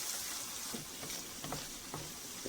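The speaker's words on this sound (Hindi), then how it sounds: "कीमा हमने अच्छी तरह से फ्राई करना है" Minced mutton keema frying in a pan with red chilli, a soft steady sizzle broken by a few light stirring knocks and scrapes, fairly faint and with no talking.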